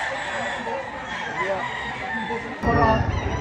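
A Sweater-breed rooster crows close by at a chicken market in Padre Garcia, Batangas, over a noisy background of people and birds, with a louder burst near the end.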